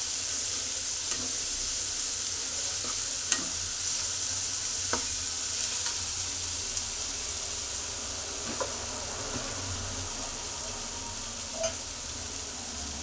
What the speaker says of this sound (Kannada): ಹಾಗಲಕಾಯಿನ ಹಾಕಿ ಈ ಥರ ಫ್ರೈನ ಮಾಡ್ಕೊತೀನಿ.